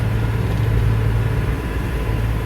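A 1962 Mercury Comet engine runs steadily with a smooth, low rumble, close and continuous with no talk over it.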